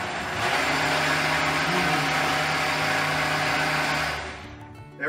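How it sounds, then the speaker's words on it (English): A blender whirring through a protein smoothie, a loud steady roar of motor and churning liquid that runs continuously for about four seconds before winding down and cutting off. "And we go ahead and blend this baby up."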